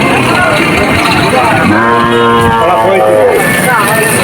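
A cow lets out a drawn-out moo close by at a livestock market, surrounded by the busy chatter of people and general crowd noise.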